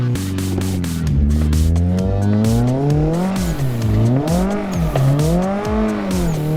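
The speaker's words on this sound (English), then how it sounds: "Oh my god, this car is loud." A loud car being drifted roars close by, its engine revving up and down in sweeping waves while tires squeal, with sharp clicks and pops cutting through the continuous drone.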